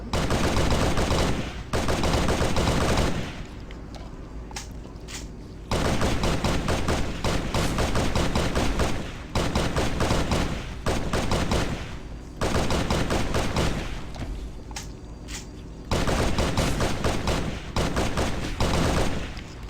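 Gunfire from the Halo SPV3 video game comes in long bursts of rapid automatic shooting, loud and dense, separated by brief quieter gaps, repeating across the stretch.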